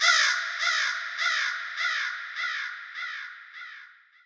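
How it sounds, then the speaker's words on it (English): A crow caws seven times in a steady rhythm, each harsh call loud and close at first and fading gradually toward the end. "this is the old crow sound"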